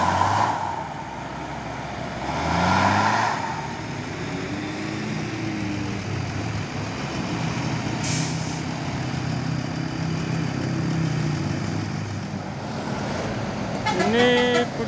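Jammed traffic crawls up a steep, sharp bend on an Indonesian road, with a low rumble of car and truck engines and a horn tooting near the end, under faint voices.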